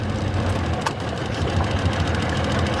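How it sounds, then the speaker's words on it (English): A Tohatsu outboard motor, just repaired, idles steadily and fairly fast on all cylinders, with a close, continuous low mechanical hum and fine knocking texture throughout and no voices. "On all cylinders, it's idling."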